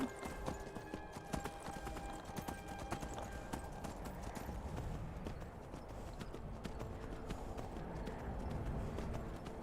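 Horse hooves clip-clop steadily throughout in VR Skyrim, a continuous galloping rhythm mixed with game ambience and music.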